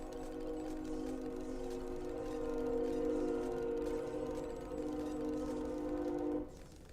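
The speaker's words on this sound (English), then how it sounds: "I don't know if you just heard the train that went by in real life" A loud train passes nearby in real life: a steady droning rumble with sustained horn-like tones that holds for about six seconds and then drops away abruptly. No voices.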